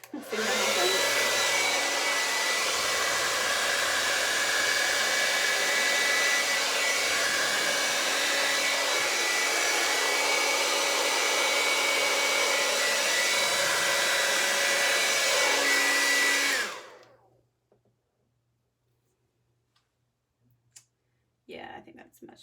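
A hair dryer blows across wet blue, violet and silver acrylic paint in a Dutch pour, a loud, steady close whoosh that runs for most of the time, then cuts off abruptly, leaving near silence with a few faint clicks.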